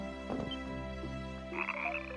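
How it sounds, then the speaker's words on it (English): A frog in Ys: Memories of Celceta croaks in a couple of short bursts over a steady hum of game ambience and music, followed by faint higher chirps. "This frog seems afraid to go back into the water."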